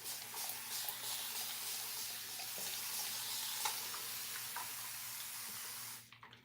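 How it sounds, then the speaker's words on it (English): Water sprays steadily onto hair from a spray bottle, a close, continuous soft hiss with faint pulses that cuts off sharply near the end. "I'm gonna use the spray bottle and I'm gonna wet my hair a little bit"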